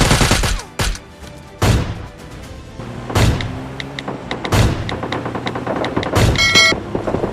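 MK14 rifle fire in a video game battle: a handful of sharp, loud shots spaced irregularly, with ringing game effects and lower rumbling between the bursts.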